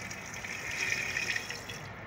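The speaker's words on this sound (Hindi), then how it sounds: "यहाँ मैं अब पानी शामिल करूँगी" Plain water is poured into freshly churned butter and buttermilk while desi ghee is made the village way, giving a faint, steady splashing gush that lasts about two seconds with no talk.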